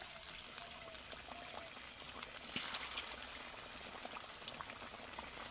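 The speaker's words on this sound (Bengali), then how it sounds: "একসাথে কিন্তু অনেকগুলো পম্পম ভাজা হয়ে যাবে" Potato pom poms frying together in hot oil over a medium flame, a steady dense sizzle and bubbling hiss that carries on unbroken, close and fairly loud, with no talk.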